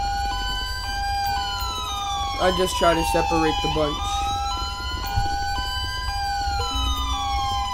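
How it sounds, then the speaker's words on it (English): Wailing video game police sirens rise and fall continuously, loud and near, while someone speaks briefly over them partway through. "These sirens are still on."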